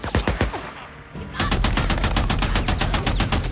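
Rapid automatic gunfire from a big new gun in the video game Days Gone: loud, close bursts of evenly spaced shots with a brief lull before a sustained stream of fire.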